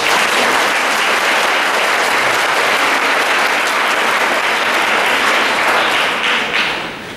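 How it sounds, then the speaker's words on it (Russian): Loud, sustained audience applause fills a concert hall at a choir concert, part of a contemporary choral music festival in Moscow. Dense clapping runs steadily throughout and fades slightly at the very end. "обязательно громко-громко хлопать"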